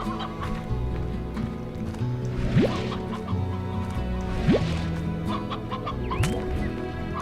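Chickens cluck repeatedly in the video game Slime Rancher, a steady run of close, busy fowl calls with a few rising squawks over a continuous musical background.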